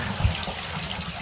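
Water runs steadily from the hot water outlet of a Vaillant ecoTEC Plus 630 combi boiler system, a continuous close gush with no talk over it.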